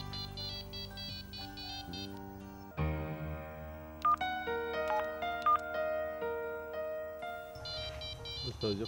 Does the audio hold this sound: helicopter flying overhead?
no